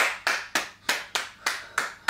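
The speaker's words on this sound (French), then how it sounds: "Tonnerre d'applaudissements." Steady, evenly spaced hand claps, about eight in a row, close and crisp, like one person clapping slowly.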